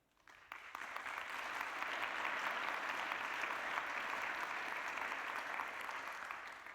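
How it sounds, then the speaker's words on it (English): Sustained applause from a conference audience in Bern at a closing session, rising quickly and holding steady, a dense wash of clapping heard from a distance with no speech over it. "I hope you can hear the applause here in Bern for that statement"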